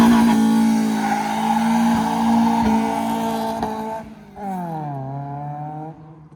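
A Honda Integra with a JDM K24a engine races by, its engine wailing loud and close while the tires squeal, then the pitch drops and rises again as it pulls away, with no voices.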